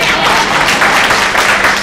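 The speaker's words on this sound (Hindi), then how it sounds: "एक बार लक्ष्मी जी के लिए ताली हो जाए।" Audience applause for Laxmi at a Brahma Kumaris gathering at Sukh Shanti Bhavan, a dense, steady wash of many hands clapping at once, sustained and fairly loud throughout without clear breaks.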